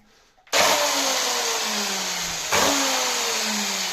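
An electric drill fitted with an old toilet brush scrubs shower tile grout. It starts abruptly with a loud, steady whine that sags slightly in pitch, then surges again partway through and runs on close by.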